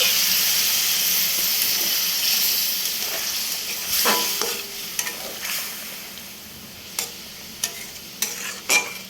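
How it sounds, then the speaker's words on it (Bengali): Ridge gourd is stirred in a hot pan, and water is poured in, setting off a loud steaming hiss and sizzle that settles into softer frying with scattered scraping stirs. "একটু নেড়ে চেড়ে নিয়ে এর মধ্যে আমি একটু জল দিয়ে নেব দেখুন জল দিয়ে নিলাম"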